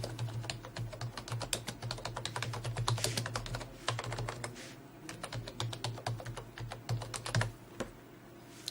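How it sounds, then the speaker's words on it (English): Steady typing on a computer keyboard, a dense run of quick, close key clicks with brief pauses while bibliographic details are entered. "Now we will type the other bibliographic details."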